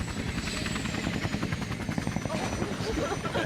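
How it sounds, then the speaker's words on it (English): A large helicopter in Max Payne 3 gives off a steady, rapid rotor chop and engine whine throughout, loud and close, with voices talking over it. "It's a party helicopter."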